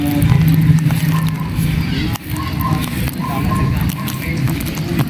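Someone wades through waist-deep floodwater during Typhoon Carina, with loud close sloshing and churning water that surges continuously, briefly dips, then resumes, and a voice speaks intermittently.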